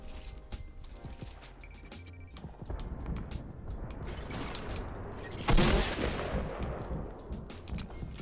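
Video game gunfire crackles as rapid, scattered clicks and shots, with mechanical ratcheting noises. One loud blast lands near the middle, and a steady background hum runs underneath.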